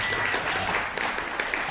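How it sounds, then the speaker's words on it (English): An audience applauds steadily, a dense patter of many hands clapping at once, fairly loud and continuous throughout. "Let's get a round of applause for our special guests."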